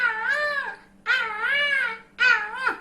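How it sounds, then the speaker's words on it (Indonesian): A baby cries as a sound effect in a told story, giving three loud, drawn-out wails with short breaths between them. "Itu seperti suara bayi"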